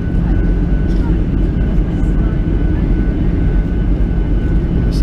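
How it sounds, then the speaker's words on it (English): Loud steady roar of an airliner cabin as the plane descends and banks toward Stockholm, a constant broad engine drone with someone speaking faintly over it. "We're just descending now to land at Stockholm. Plane's just banking into a turn now."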